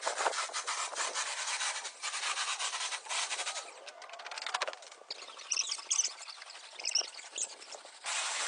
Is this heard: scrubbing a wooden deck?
yes